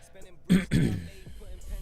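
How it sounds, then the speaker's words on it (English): A person coughs and clears their throat in a short burst of two rough, close bursts, followed by quieter throat noise and breathing. "you guys have to hear me cough every once in a while"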